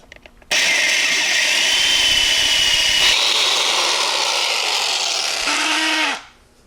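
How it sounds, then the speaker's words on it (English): A power drill whines steadily and loudly up close for about six seconds while drilling into a drag-racing Powerglide transmission case, then winds down and stops. "let me carefully drill down through there, make sure that I don't drill too deep"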